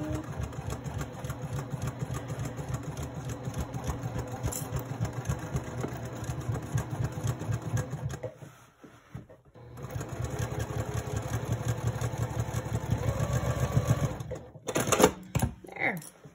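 A sewing machine stitches the interior and exterior pieces of a handbag together, a steady close rhythmic hum and rapid needle chatter that stops briefly around the middle and again near the end.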